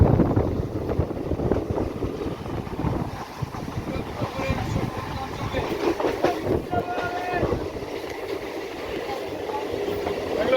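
A train runs steadily on the tracks between Tarakeswar and Dakshineswar, a continuous loud rumble with wheel clatter and rushing wind noise across the mic, with faint tonal squeals in the middle.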